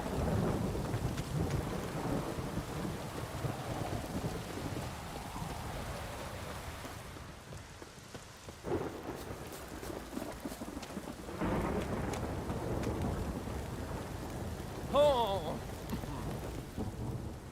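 Steady rain pours while deep rolls of thunder rumble through a storm in the video game The Witcher 3, the downpour continuous and the thunder swelling and fading at intervals.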